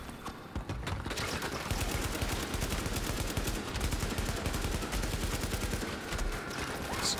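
A steady rattle of rapid gunfire in The Division video game runs almost unbroken, with dense repeated shots under a busy background.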